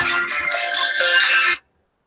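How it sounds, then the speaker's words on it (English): A phone ringtone sounds for an incoming call: a bright melodic chime pattern of several short repeating notes plays clearly and alone for about a second and a half, then stops abruptly. "that's my phone coming in."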